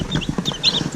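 IPB D1 kampung chickens cluck and chirp close by in a brief, busy burst of short overlapping calls over a low murmur of background noise.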